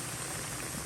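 Saltfish fritters made with wheat flour frying in a pot of oil: a brief, dense, steady sizzle and crackle with no talk.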